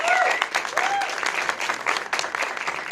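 Audience applause at a trans forum in Bogotá, a dense, loud burst of clapping from a crowd that carries steadily for three seconds with faint voices mixed in.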